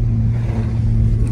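A car's exhaust burbles and whirs loudly and close while it fishtails on a snowy road in traffic, a steady low engine drone throughout the short moment.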